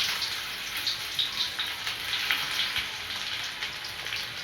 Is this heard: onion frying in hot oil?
yes